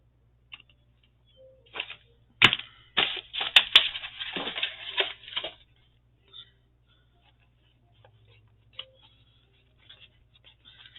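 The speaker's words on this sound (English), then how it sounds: "So let's just cut a strip." A strip of junk mail paper is cut close up, giving a few seconds of crisp snipping and rustling bursts that then fade into near silence with only sparse light taps.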